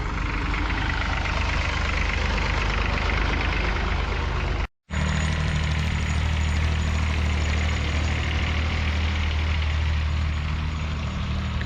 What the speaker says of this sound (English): Kubota there, folks. That's the tractor.